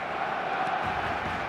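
Constant stadium crowd murmur from an eFootball match fills the space evenly, a broad, distant wash of voices without any big cheer.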